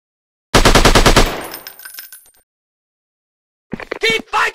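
A rapid machine-gun burst in a shooting video game, loud and close, tailing off into a ringing decay, then silence before further game shots and voices break in.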